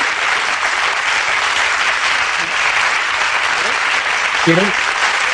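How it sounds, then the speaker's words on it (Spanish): An audience gives a TV studio guest another round of steady, loud applause that fills the whole stretch, with a host's voice briefly heard over the clapping. "Vale, venga, otro aplauso."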